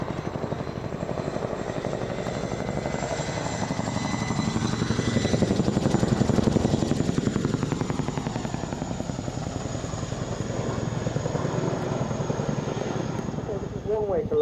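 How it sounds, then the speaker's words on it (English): Helicopter rotor and turbine engine thrum steadily at an RAF Waddington airshow, swelling slightly as the machine lifts from a landing, with a commentator talking over the continuous loud drone. "Having brought the helicopter to a stop, we'll now watch it slowly fly up"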